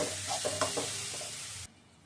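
Mashed hilsa fish tail stirred into a simmering curry, a soft wet sizzle with a few gentle stirring scrapes that cuts off abruptly near the end.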